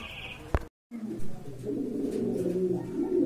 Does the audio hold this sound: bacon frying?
no